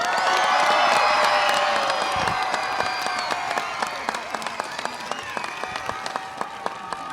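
Audience at a LaSalle Language Academy Blue Ribbon School event claps and cheers, with loud mixed shouts and whoops at first, then thinning into scattered individual claps that fade out.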